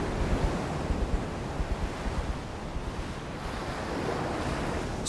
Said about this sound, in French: la ville est sous l'assaut d'un nouveau coup de vent en pleine grande marée